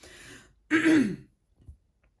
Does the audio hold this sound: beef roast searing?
no